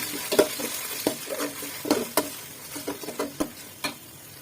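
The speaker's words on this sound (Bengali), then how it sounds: "আটা বাটা দিয়ে এখন পোলার চালটা ভেজে নিব।" Polao rice fries in a pan with ginger paste and onion, giving a soft, steady sizzle broken by sharp, irregular scraping and clicking stirs. The sound is close and has no talking.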